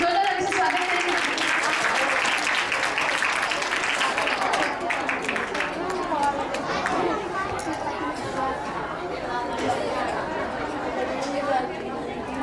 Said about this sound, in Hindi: जोरदार ताली से स्वागत करेंगे